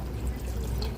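Pre-warmed water pours into a saltwater clownfish tank with sand and an under-gravel filter, a steady close splashing gush throughout.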